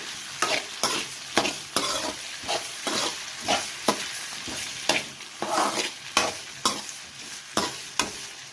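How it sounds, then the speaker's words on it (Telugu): Tomatoes cooking in a pan for homemade mushroom curry, with regular stirring strokes over a steady sizzle, close and fairly loud, no talking. "టమోటాలు వేసిన తర్వాత కొంచెంసేపు మగ్గించుకోవాలి"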